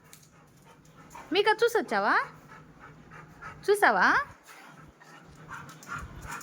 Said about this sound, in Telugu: అక్కడ వెంచర్లో కుక్క పిల్లలు అరుస్తున్నాయి పాపం.